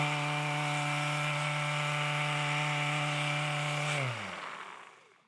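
Festool electric sander motor running up close, a steady loud whine with strong tonal hum that holds for about four seconds, then winds down and fades out as the motor stops.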